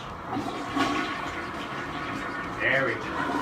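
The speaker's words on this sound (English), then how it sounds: "Almost forgot the flush." A toilet flushes in a home bathroom with a rushing swirl of water, followed by the tank refilling, heard close and fairly loud.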